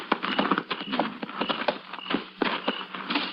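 Quick, irregular clip-clop of horse hooves close by, a steady run of hard knocks on ground with some scuffing between them.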